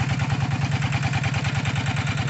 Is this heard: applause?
no